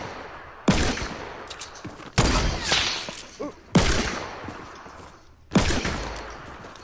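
Four loud, sharp sniper rifle shots in Fortnite, spaced about one and a half seconds apart, each a close cracking blast with a trailing echo, alone without talk.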